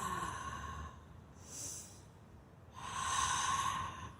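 Slow, deep breaths taken outdoors: a long exhale, a short airy pause-breath, then another full, drawn-out breath, close and soft over a low background hum, with no talking.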